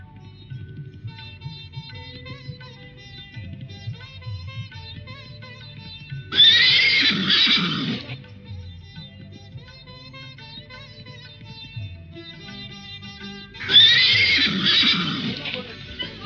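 A horse neighs twice in loud, shrill whinnies several seconds apart over a quieter musical background.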